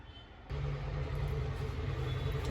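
Mixer grinder coarsely grinding pea paratha stuffing in its jar, the motor kicking on abruptly and then running as a loud, even whirring drone.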